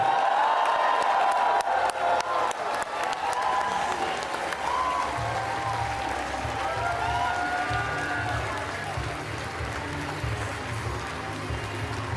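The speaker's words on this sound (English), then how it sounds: "let's give a round of applause" Sustained applause from a large audience at a political rally, steady clapping throughout with a few faint cheers mixed in.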